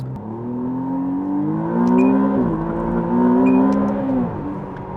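A 2023 McLaren Artura's V6 engine accelerating on the road, a loud, close, smooth growl that climbs in pitch twice, easing briefly between the two pulls.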